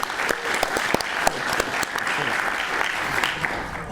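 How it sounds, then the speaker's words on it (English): Audience applause greets a guest at a fireside chat during a game convention, a few seconds of dense, near clapping with sharp individual claps standing out. "A round of applause, please, for Richard."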